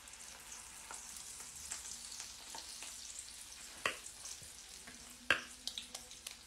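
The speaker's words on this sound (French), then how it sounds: "et je mets dans l'huile" Tunisian chebtiya dough balls fry in hot oil with a soft, continuous close sizzle, broken by a few sharp pops and light clicks from the pan.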